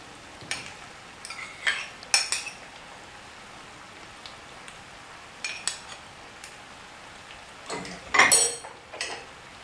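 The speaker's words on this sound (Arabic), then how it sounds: "وتوا باش نحط لها التون." Spoon and utensil clinks and scraping against a pot as canned tuna is added to cooked macaroni, coming in scattered short bursts with quiet pauses between them.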